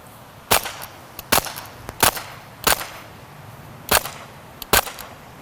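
Five sharp air pistol shots crack out at roughly one-second intervals, each a loud, close, clean report with a short tail, on an indoor range with no talking between them.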